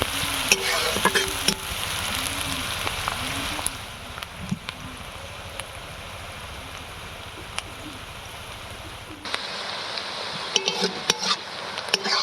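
Finely chopped onions fry in a pan for a bhola fish masala curry, a continuous crackling sizzle with scattered spoon scrapes and stirring clicks, settling slightly quieter toward the end.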